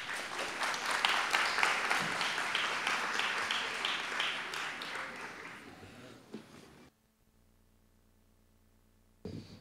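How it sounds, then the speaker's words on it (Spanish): An audience claps steadily at a school award ceremony for about six and a half seconds, the clapping slowly thinning out before it stops, leaving near silence and then a brief bump. "La recibimos con un fuerte aplauso."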